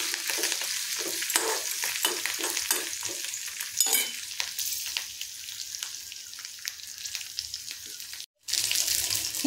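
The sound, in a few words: ingredients frying in pan for coriander chutney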